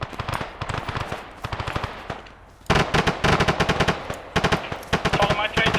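Automatic gunfire in a team game, heavy bursts of rapid shots that pause briefly and then resume louder and closer, with faint voices underneath.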